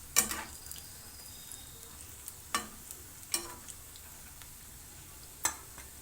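Pakodi fritters frying in hot oil while a utensil stirs them gently, giving a low steady sizzle broken by a few sharp scraping clinks.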